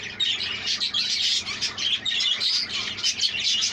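Young budgerigars, including crested birds, chirp and chatter continuously in an aviary, a dense flock of overlapping high tweets close by with no talking.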